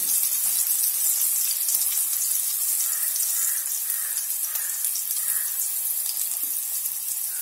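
Mussels (kallummekaya) sizzle and fry in a pan for a roast, a steady, loud, close hiss that runs throughout with faint low clinks underneath and no talking.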